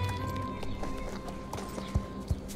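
Horse hooves clip-clop along a trail ride in a video game set in Mistfall, a steady walking rhythm of close knocks with a couple of louder thuds near the end over soft ambient game sound.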